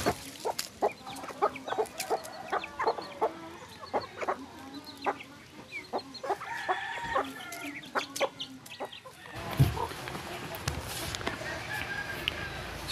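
A free-range chicken clucks repeatedly up close in a rhythmic series of short calls, with a crowing rooster and someone speaking softly in the background.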